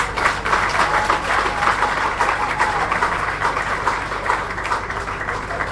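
An audience applauds a man being honoured at a tribute ceremony for Professor Paul Malembe, founder and first rector of ISTI, producing a steady, dense wash of clapping at even loudness from start to end.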